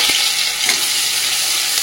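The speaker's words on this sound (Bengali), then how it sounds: "কালো জিরে কাঁচা লঙ্কা ভাজা ভাজা হয়ে গেছে," Black cumin, garlic and chopped green chili frying in mustard oil in a kadai, a steady close bright sizzle with faint stirring throughout.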